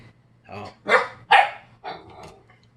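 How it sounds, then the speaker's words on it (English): A dog barks indoors in several loud, sharp bursts spread over a few seconds, with a low steady hum underneath. "Dog's going crazy on me."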